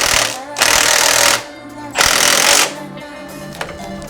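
An impact tool rattles in two loud bursts while bolts are tightened during a Highlifter lift install on a Kawasaki Brute Force ATV, then a softer, duller stretch follows.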